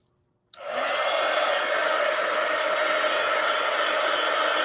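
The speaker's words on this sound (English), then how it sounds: "Give me the dryer here." A hair dryer switches on after a brief click and runs steadily with a loud, even whooshing roar while drying a collage page made from coloring book sheets.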